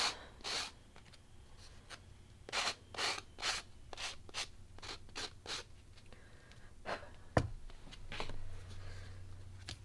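A craft sanding block rubs along the edge of a paper card, a series of short, close, scratchy strokes in an uneven rhythm.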